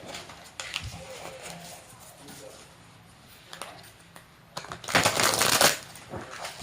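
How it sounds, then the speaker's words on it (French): A deck of tarot cards is shuffled by hand with soft riffles and taps, building to a louder burst of card flutter near the end, with no talk. "j'arrive pas à battre les cartes"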